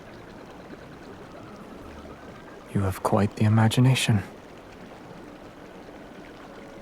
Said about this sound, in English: The sound of flowing water gradually fades behind us as we venture deeper.